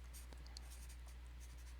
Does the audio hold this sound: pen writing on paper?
yes